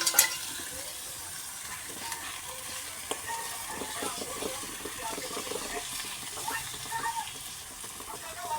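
Onion and coconut with spices frying in oil until the oil separates, for a fish curry: a steady, close sizzle with occasional stirring scrapes throughout, and a voice talking faintly underneath.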